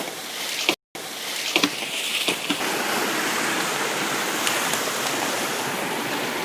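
Water rushing steadily through an irrigation channel near rice paddies, a dense continuous outdoor roar with a few brief splashes and knocks, close and loud.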